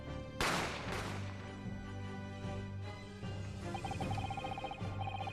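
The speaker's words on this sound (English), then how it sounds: "As soon as I heard the gunshot," A gunshot in The Great Ace Attorney Chronicles bursts out sharply, with a second crack soon after, over a steady background of game music.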